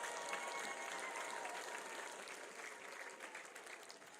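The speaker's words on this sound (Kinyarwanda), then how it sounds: "Twayikomeye amashyi y'urufaya muri iri teraniro." A church congregation applauding together, a dense, even wash of clapping that stays steady throughout and sounds moderately distant.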